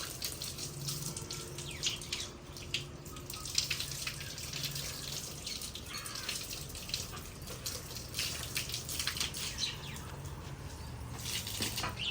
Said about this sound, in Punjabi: ਇਹ ਨਾਲ ਦੇ ਨਾਲ ਪਾਣੀ ਲਾਓ ਨਾ ਤੇ ਫਿਰ ਸੀਮਟ ਪੱਕਾ ਹੋ ਜਾਂਦਾ